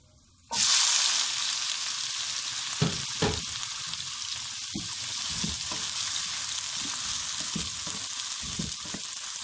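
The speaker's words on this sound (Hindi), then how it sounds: "सबसे पहले हम प्याज भूनेंगे।" Onions fry in a pan with a loud, close, continuous sizzle that starts abruptly and holds steady, broken by a few scraping stir strokes and clinks.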